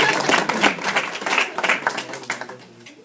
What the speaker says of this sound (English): let's just give her a applause